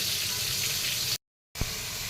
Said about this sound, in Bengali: এদিকে মাছ ভাজা হয়ে গেছে